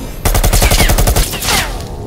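Rapid rifle gunfire in the VR shooter Bullet Train, a loud burst of evenly spaced shots over about two seconds, close and alone with no talk.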